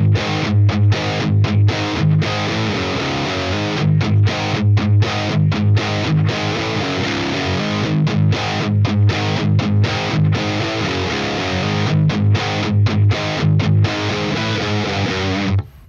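Distorted electric guitar in drop D plays a riff, loud low chugging palm-muted notes broken by sharp stops and short gaps, then ringing out briefly at the end, with no voice.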